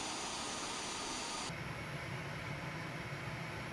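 MB339 jet engine in a flight simulator climbing out at reduced thrust after takeoff: a steady, loud whooshing roar and hiss that drops slightly in pitch partway through, with no voices.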